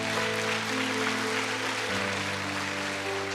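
A church congregation applauds steadily and loudly throughout, the dense clapping laid over sustained keyboard chords that shift partway through.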